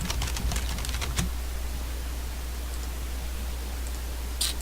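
Computer keyboard typing for a code typing program, quick clustered keystrokes in the first second or so over a steady low hum, then near silence with faint clicks and one brief burst near the end.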